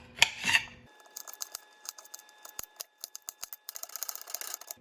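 A knife chops garlic into very small pieces on a cutting board, giving a string of quick, close, sharp taps in uneven bursts after a brief clatter at the start.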